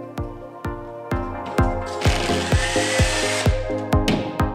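A power drill bores holes into a wall for mounting rails, with sharp regular clicks and a brief grinding whir in the middle, heard close and without talk.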